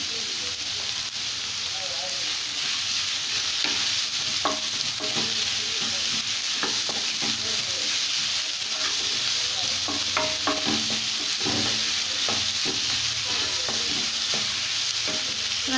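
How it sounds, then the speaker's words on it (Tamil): Onions sautéing in a pan for chilli bread, a continuous close sizzle with frequent clicks and scrapes of a stirring spoon throughout. "வெங்காயம் வதங்கட்டும்."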